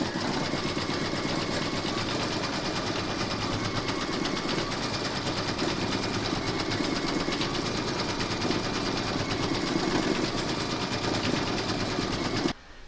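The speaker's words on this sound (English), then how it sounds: "Load your thread colour for the quilting into your machine, and then you're going to stitch round number 4." An embroidery machine stitches quilting lines on a Santa Please Stop Here door tag, a steady close mechanical whir with fast needle chatter running unbroken for several seconds before it cuts off at the end.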